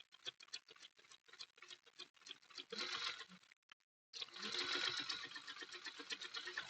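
A sewing machine stitching a seam on a quilt block, heard up close as a rapid, rattling patter in quick bursts with a short pause partway through, then a longer continuous run.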